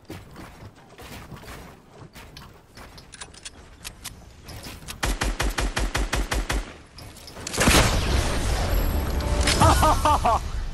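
Fortnite weapons fire in rapid bursts, a steady rattling volley in the middle, then a loud, roaring explosion that fills the last few seconds with dense noise.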